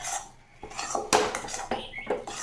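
A metal spoon scrapes and knocks against a kadai while a thick date and nut barfi mixture is stirred, making irregular close clinks and scrapes with no talking.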